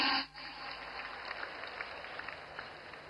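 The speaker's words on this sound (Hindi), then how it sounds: "तालियों में कमी नहीं होनी चाहिए" Sustained applause from a large crowd greets craftsmen such as blacksmiths and hammer tool-kit makers at a PM Vishwakarma scheme gathering in Wardha, a steady wash of clapping that continues evenly after a brief opening dip.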